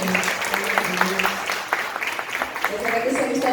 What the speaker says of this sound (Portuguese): Você pode aplaudir também, Guilherme?